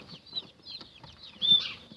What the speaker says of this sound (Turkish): O civcivlerden bunlar.